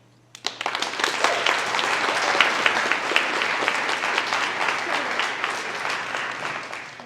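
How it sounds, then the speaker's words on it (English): Enthusiastic audience applause starts abruptly and continues loud and dense, many hands clapping together without pause. "Let's do one more big round of applause for all 6 of those candidates."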